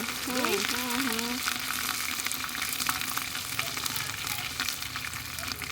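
Ginger, cumin and chilli powder hitting hot oil in a cooking pot, a loud continuous crackling sizzle up close, with a brief voice or background tone near the start.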